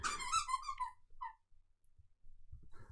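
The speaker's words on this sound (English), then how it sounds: "You probably can now hear some squeaking in the background," A dog squeaks a toy in the background: a quick burst of high, faint squeaks at the start, then near silence with a few soft low knocks.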